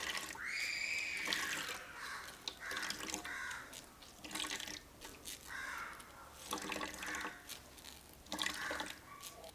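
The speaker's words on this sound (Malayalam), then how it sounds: "ആ തേങ്ങയിൽ അല്പം വെള്ളം ഒഴിച്ചിട്ട് അതുകൂടെ നമുക്ക് അരിച്ചെടുക്കാം." Water is poured over grated coconut and squeezed through a strainer for a home cough remedy, giving intermittent close splashing and dripping bursts, with bird calls sounding nearby.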